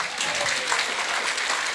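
Crowd at a Wisconsin county Republican Party dinner giving a sheriff another round of applause, a steady dense clapping from many hands filling the hall.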